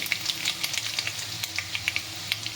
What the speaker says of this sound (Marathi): आता लसूण टाकला मी आता याच्यामध्ये थोडी मोहरी टाकली